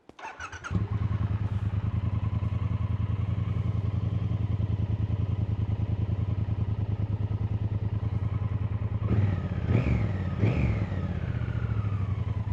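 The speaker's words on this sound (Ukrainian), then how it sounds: "Запустимо двигун." A 2023 Triumph Bonneville T120 motorcycle engine starts and runs at a steady idle, close and loud, with a couple of brief throttle blips near the end.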